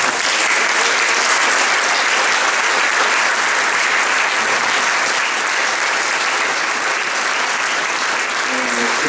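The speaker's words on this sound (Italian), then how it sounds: "Per cui il prossimo applauso fatelo a loro." Sustained, loud applause from the audience at the Premio Giorgione 2023 award ceremony, a thick uniform clatter of many hands continuing unbroken from start to finish.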